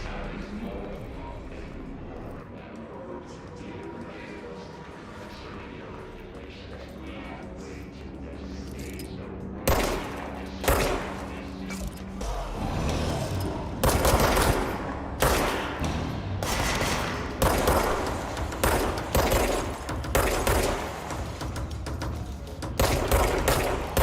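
Gunfire in the video game Control, a run of sharp, rapid shots and thuds breaking out about ten seconds in after a quieter stretch of low game ambience, loud and dense through to the end.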